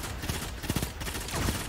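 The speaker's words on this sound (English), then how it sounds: "I hear some gunfights going on here." Gunfire from a firefight in the video game Destiny 2, a few quick bursts and rattling volleys over a steady busy game background, fairly distant and moderate in level.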